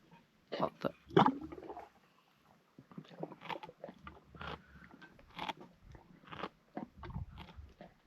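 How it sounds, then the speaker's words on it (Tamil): A camel in a Rajasthan village chews its cud at night, making close, wet grinding and crunching bites in irregular bursts separated by short pauses. "திடீர்னு வந்து அசை போடுது. திடீர்னு வந்து முதல்ல இதான் அந்த சத்தம் வந்துட்டு இருந்ததா."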